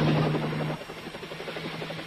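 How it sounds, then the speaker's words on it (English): A crop duster helicopter passes overhead with a loud, steady rotor drone that eases slightly after the first moment but keeps going throughout, with no one talking. "That helicopter's a crop duster."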